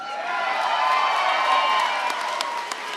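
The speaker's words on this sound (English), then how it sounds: "One more time, big round of applause for both these combatants out here giving it everything they've got." Spectators at an amateur MMA event cheer and applaud for both fighters, a sustained dense roar with whoops and scattered claps, steady and moderately distant throughout.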